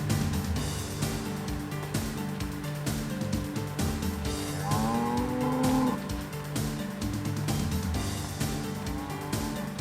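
Cattle low in a hay field, with a drawn-out moo rising over a busy, steady background rumble and clatter.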